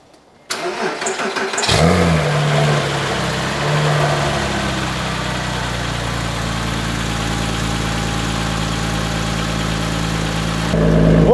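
A 987.1 Porsche Cayman S engine cold start: it cranks briefly, catches with a loud roar, then settles into a steady, deep idle that holds until a final rise in revs.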